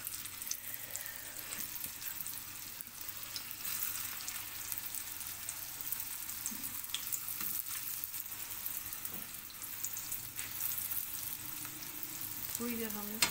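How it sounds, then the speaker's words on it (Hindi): Potato cutlets shallow frying in oil on a flat tawa, giving a constant crackling sizzle that stays close and even across the whole stretch, with faint clinks near the end and no speech. "इसको हमने डीप फ्राई नहीं करना बल्कि शैलो फ्राई करना है।"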